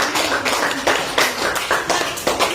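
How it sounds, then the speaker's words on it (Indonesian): An audience of friends at an Indonesian school post-trip presentation claps loudly in a rhythmic, pulsing pattern of repeated bursts, close and without talk. "Kita kasih tepuk tangan dong teman-teman."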